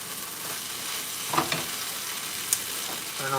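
Hamburger meat fries in a frying pan with a continuous soft sizzle, joined by a few brief clinks and stirring scrapes near the end.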